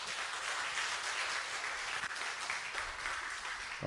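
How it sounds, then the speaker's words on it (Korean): A church congregation at a Korean revival dawn service applauds, an even wash of clapping that sounds somewhat distant and steady for about four seconds before a sudden louder sound at the very end. "수고한 모든 분들 위해서 박수해 주시면 좋겠습니다"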